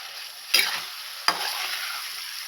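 Prawns fry in oil for prawn biryani with a continuous close sizzle. Two sharp scraping stirs of a utensil against the pan cut through the frying, and nobody speaks.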